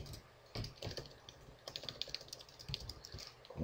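Rapid clicking keystrokes on a computer keyboard during Unity3D programming, irregular bursts of close, crisp taps with brief pauses, quiet overall and heard alone without talk.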